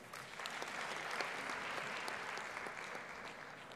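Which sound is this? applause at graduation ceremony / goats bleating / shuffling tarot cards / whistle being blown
applause at graduation ceremony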